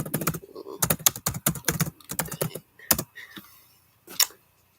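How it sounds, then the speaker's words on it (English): Rapid bursts of typing on a computer keyboard, close and fairly loud, with quick clustered keystrokes broken by short pauses and a final isolated tap before silence. "Let me type"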